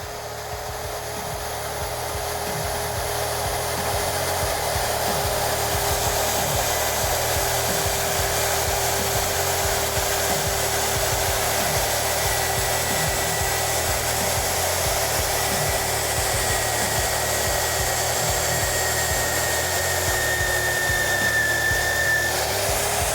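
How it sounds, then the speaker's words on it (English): A steady, loud motorized whine runs continuously for the whole stretch, a drill boring a 1-inch hole through a metal rail, a constant mechanical drone with no talking. "I'll just end up drilling the whole rail at this 3/4 with our 1-inch hard stop"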